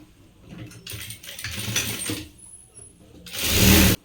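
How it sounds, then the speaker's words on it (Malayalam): Sewing machine stitching a blouse, with bursts of rapid mechanical whirring and clatter up close and a louder fast run at the end. "ഇത് സ്റ്റിച്ച് ചെയ്ത് കൊടുക്കുക"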